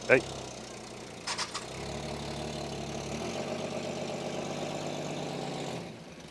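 An engine in an old, long-abandoned Chevrolet Nova catches after a few clicks and settles into a steady, low, rough idle nearby.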